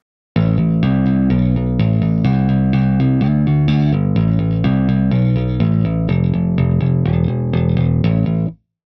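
Bass guitar run through a split drive effect, a continuous line of plucked notes with a thick, gritty overdriven edge, loud and steady throughout, no voices.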